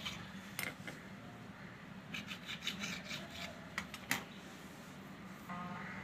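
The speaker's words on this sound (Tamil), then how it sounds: "இப்போ நம்ம பப்ஸுக்கு தேவையான அளவு கட் பண்ணிக்கலாம். 4 பீஸாக கட் பண்ணிடலாம்." A knife cuts rolled puff pastry dough into four pieces, making quiet, close scraping and rubbing strokes against the board in short irregular bursts.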